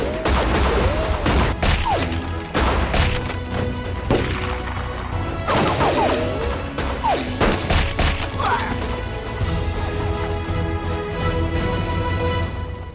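Gunfire from a wartime drama, with bullets striking near a window, comes as a dense run of loud, sharp cracks and impacts over a background of raised voices and chaotic action.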